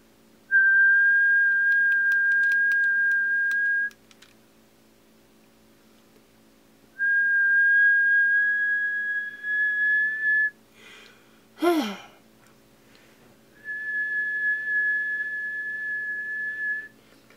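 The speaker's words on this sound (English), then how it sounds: "I don't think it likes my whistling." A person whistles three long steady single notes separated by pauses, with a short breathy gasp between the second and third.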